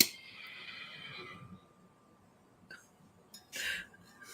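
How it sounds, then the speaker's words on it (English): A horse whinnies from outdoors at a distance, the call fading over the first second and a half, followed by a brief second burst near the end amid quiet room tone. "Did you hear the horse?"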